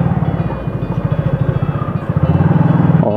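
A motorcycle engine putters steadily with a rhythmic, close chug while riding through the narrow lanes of Patel Nagar camp in Hisar, Haryana.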